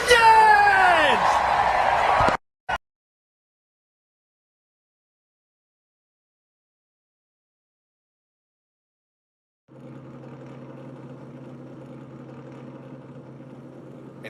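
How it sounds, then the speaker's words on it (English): Gen 6 NASCAR stock car engines fire up at Talladega. After a short sweeping sound and a long stretch of silence, a low, steady engine drone comes in at moderate loudness and holds to the end. "Drivers, start your engines!"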